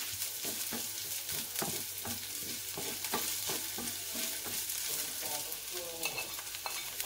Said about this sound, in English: In a small pan with little bit oil, stir fry the ginger until it's fragrant